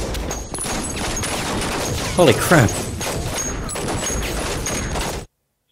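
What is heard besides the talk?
gunfire in the video game Saints Row 2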